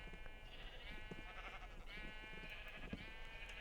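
Sheep in the Minecraft video game bleat in a run of wavering, nasal calls, several overlapping cries at low volume with no speech.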